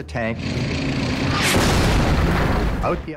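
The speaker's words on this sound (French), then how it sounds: "Un de nos chars a reçu un autre obus." A tank shell strikes a tank in Italian wartime combat, a loud, deep boom and rumbling blast that fills the clip, with a voice briefly heard at the start and end.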